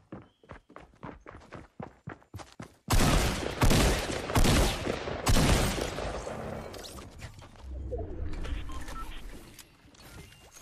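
Rapid bursts of gunfire from a Fortnite match ring out loud and close, following a run of quick footstep-like taps, with dense overlapping shots for several seconds before trailing off.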